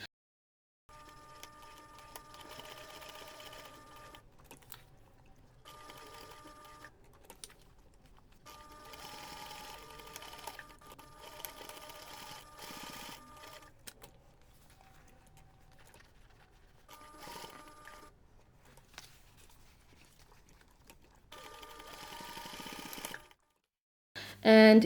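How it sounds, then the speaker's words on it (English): Sewing machine stitching down the strap of a laptop bag near its metal hardware, running in repeated bursts of steady mechanical whirring separated by short pauses, close and moderately loud. "So I'm going to start at the top, just stitch down, go as close as I can get to the hardware, stitch across and then go back."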